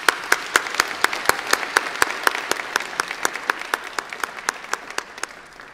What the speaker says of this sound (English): So let's have an applause for that for you.